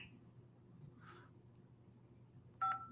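A single short telephone keypad tone beeps near the end, pressed during an automated voicemail prompt, clear against a faint low background hum.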